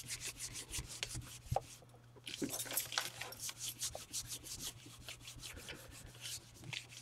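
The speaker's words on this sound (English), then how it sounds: "All right, so I'm rubbing it, going, I do go around the edges pretty hard" Paper being rubbed by hand onto a gelli printing plate, a continuous close scratchy rubbing in quick strokes with one brief pause, over a faint low hum, with no talking.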